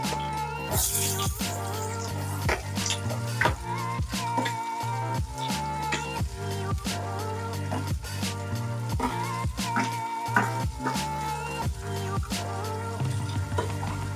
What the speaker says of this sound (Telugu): ఉల్లిపాయ ముక్కలు వేసుకొని బాగా వేపుకుందాం